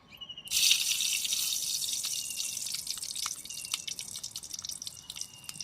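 Two green chilies drop into hot oil at a riverside cookout, setting off an abrupt loud sizzle that settles into a steady hissing crackle with faint spits and pops.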